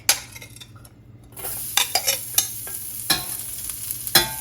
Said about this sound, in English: Now we're going to add half the garlic.